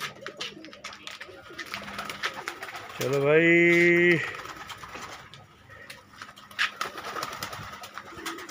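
A pigeon in a loft gives one clear, close, throaty coo lasting about a second, set among quiet rustling and background noise, with a voice speaking briefly.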